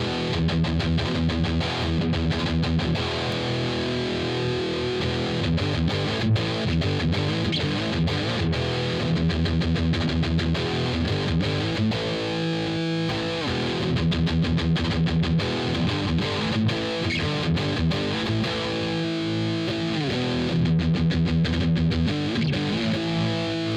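Electric guitar with its pickup coil split, played through a high-gain distorted amp, a continuous dense stretch of chugging rhythm riffs with no talking.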